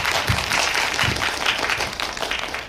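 Sustained applause from an audience at a Korean film screening and critics' talk, honouring the cinema staff; dense, even clapping fills the whole stretch at steady loudness with no voices over it.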